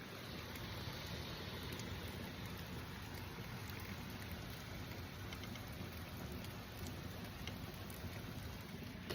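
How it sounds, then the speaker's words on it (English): Rain falls steadily outdoors, a constant faint hiss of drops with no clear individual hits, unchanging across the whole stretch. "It's raining."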